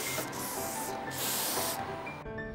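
An oil spray can, sold for rust removal and prevention, hisses in a steady close spray lasting about two seconds, then cuts off abruptly.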